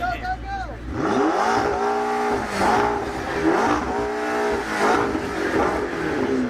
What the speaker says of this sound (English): let's hear an MP412C with some beans